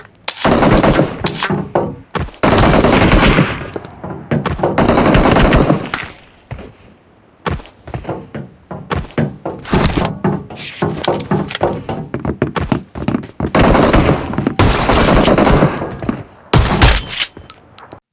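Automatic gunfire in BGMI (PUBG) fights, with repeated loud bursts of rapid shots knocking down enemy players, separated by short pauses and scattered single cracks of game action.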